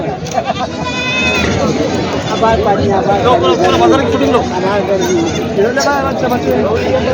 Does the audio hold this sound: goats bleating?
yes